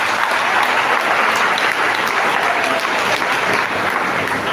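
A church congregation at Mass breaks into sustained applause, a dense, even wash of many hands clapping that fills the room for several seconds with no talk over it.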